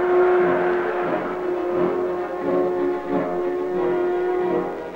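Steady traffic on a highway runs past a site where earthwork goes on nearby, a loud continuous roar with a droning tone throughout and gentle swells as vehicles pass, with no voices.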